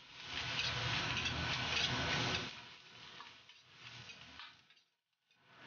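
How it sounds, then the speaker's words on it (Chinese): Chili peppers, garlic and fermented black beans stir-fry in a wok with a strong sizzle and rapid tossing scrapes for a couple of seconds, then softer intermittent stirring that fades almost to silence. "快速翻炒均匀。"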